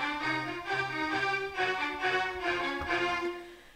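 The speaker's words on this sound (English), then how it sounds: "I've gone from quite a harsh string sound like this" A harsh, buzzy synthesizer string patch holds a bright sustained chord, swelling in a few gentle pulses and then fading, heard alone with no talking.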